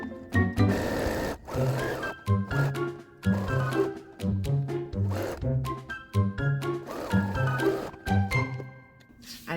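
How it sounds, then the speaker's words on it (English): A sewing machine stitching layered fabric heart pockets, its motor running in repeated bursts with short pauses between them, close and fairly loud. "we can go ahead and sew all around them"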